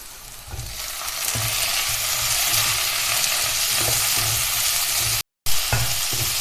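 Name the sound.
sautéing chopped tomatoes with browned onions in a pan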